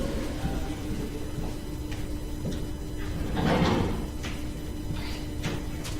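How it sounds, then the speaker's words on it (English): A door in a university lecture room swings shut with a single muffled thud in the middle, over a steady room hum. "I'm just going to close this door back here"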